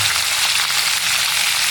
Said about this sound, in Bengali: ইলিশ মাছটা ভাজা হোক